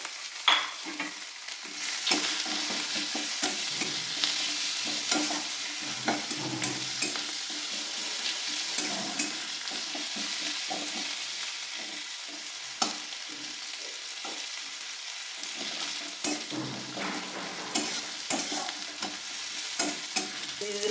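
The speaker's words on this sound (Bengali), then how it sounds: "তারপর পেঁয়াজ আর রসুনের টুকরো করে কাটা দিয়ে দিচ্ছি। এটা ভেজে নেবো।" Pieces of onion and garlic fry in a pan with whole cloves, cinnamon and cumin, a steady close sizzle broken by frequent clicks and scrapes of stirring that runs for about twenty seconds without any voices.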